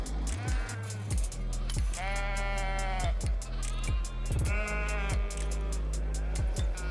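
Lambs in a handling crate with deep-V straight rollers on a sheep farm bleat repeatedly, several drawn-out wavering calls overlapping with short knocks and clatters of the equipment, fairly close and clear.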